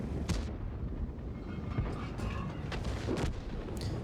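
Tank cannon fire in World of Tanks: a few heavy booming shots with some mechanical clatter, sitting in a continuous low battlefield rumble, loud and fairly close.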